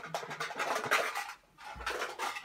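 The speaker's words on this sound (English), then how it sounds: "And that sound is coins." Coins rattle and clink inside a metal tin in two shaking bursts with a short pause between them.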